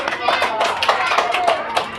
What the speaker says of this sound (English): Clap for Manjua, everybody.